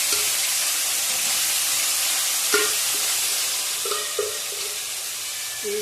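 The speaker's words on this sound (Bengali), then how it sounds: "এই দেখো কাতলা মাছ ভাজছি।" Pieces of catla fish, salted beforehand, fry in hot oil in a pan, giving a loud steady sizzle with a few soft scrapes and clinks of stirring and no talk.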